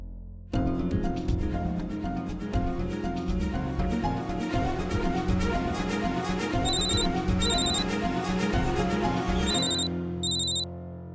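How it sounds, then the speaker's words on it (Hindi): A phone rings on and on without being answered, its repeating electronic ringtone pulsing steadily and loudly for about ten seconds, close and alone with no voices. "अरे ये मानवी दी फोन क्यों नहीं उठा रही है?"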